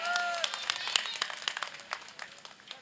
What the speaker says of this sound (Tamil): ஒரு பெரிய கைத்தட்டு கொடுத்து அவரை பாராட்டலாம்.